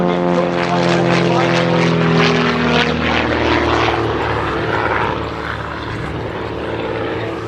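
Propeller aircraft of a two-plane aerobatic display team at an air show at East Kirkby, one flying straight and level while the other rolls around it; a loud, sustained engine drone with shifting pitch that eases slightly toward the end.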